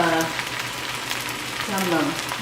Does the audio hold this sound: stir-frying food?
yes